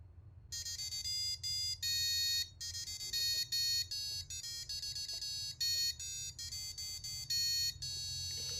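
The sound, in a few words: buzzer playing music on a tea dipper project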